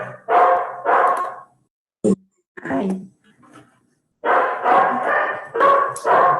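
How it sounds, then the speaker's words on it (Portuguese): A female dog barking repeatedly at close range indoors, in short loud bursts and yips with a quiet gap in the middle, while a voice briefly exclaims. "A cachorra tá latindo de novo."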